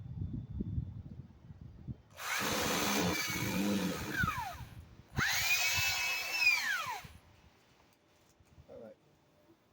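Cordless power drill driving a screw into a pre-drilled hole while building a barbecue prep area, two loud whirring bursts a few seconds each with rising pitch at the end of each run, separated by a short pause, near and close up.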